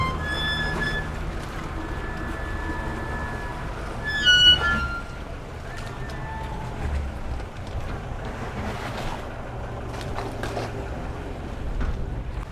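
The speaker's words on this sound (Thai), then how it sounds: "เสียงเบาเนี่ยพี่บอลเสียงเครื่องนุ่มมาก" A quiet outboard engine runs on a premium boat out on the water, giving a soft, steady hum under constant wind noise and the wash of waves.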